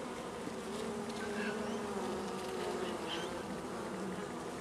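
Honeybees buzzing steadily at a hive while hives are prepared for amalgamation, a soft, continuous drone of many wings with no talking.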